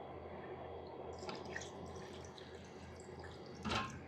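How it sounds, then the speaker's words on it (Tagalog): Water poured from a container into a cooking pot of Filipino pork adobo, a steady close splashing and trickling with a brief louder gush near the end. "Ayan, tubigan po natin siya ng kaunti"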